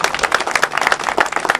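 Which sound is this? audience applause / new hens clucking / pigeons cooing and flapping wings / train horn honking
audience applause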